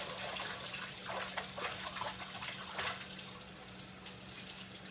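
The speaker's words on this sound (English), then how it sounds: "got my hand all rinsed off and washed again" Hot dishwater runs steadily from a kitchen tap as hands are washed under it, a close, continuous splashing with brief shifts as the hands move through the stream.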